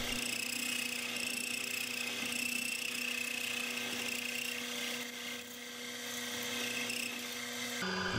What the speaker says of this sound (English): I use a Harbor Freight boring bit until I just about have all the threads cut out